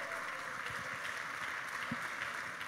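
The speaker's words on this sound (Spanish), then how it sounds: "Fuerte el aplauso, por favor." Audience at a Chardonnay wine award ceremony applauding the winning winery, a soft, steady patter of distant clapping from a hall, fairly faint and even throughout.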